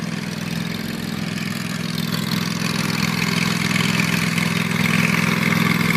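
A small engine runs steadily at a smooth, constant drone while cutting tall grass, close and loud, with no talking over it.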